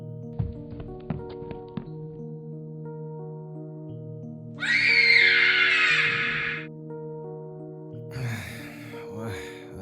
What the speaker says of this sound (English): Wait, what was that scream?